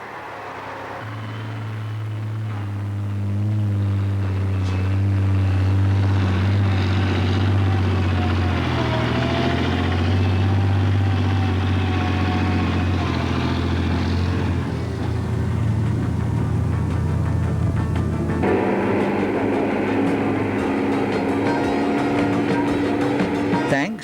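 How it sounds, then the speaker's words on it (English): A KFM TB600 heavy-duty prototype truck climbs a steep rough gradient, its engine a loud sustained droning roar that shifts pitch partway through, with a narrator speaking over it. "especially when you see the way the TB600 takes gradients of up to"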